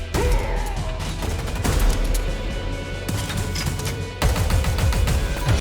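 Heavy gunfire rings out in a video game trailer shown at E3 2021. Loud automatic bursts arrive in several close, punchy volleys separated by brief gaps, with no talk.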